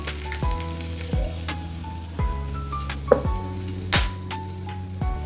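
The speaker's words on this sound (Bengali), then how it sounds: "তারপরেই দেবো তেজপাতা শুকনো একটা লঙ্কা কিছুটা গোটা গরম মশলা" Bay leaf, a dry chili and whole garam masala frying in hot oil, a steady close sizzle broken by several sharp crackles and spatters as the spices hit the pan.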